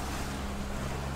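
Small boat pushing out through an ocean inlet, engine drone under heavy wind buffeting on the microphone and wave wash, steady and continuous.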